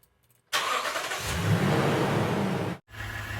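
A Toyota Tundra's engine turns over and runs at a close, steady idle as its transmission warms up, cutting out briefly near the end before the rumble resumes.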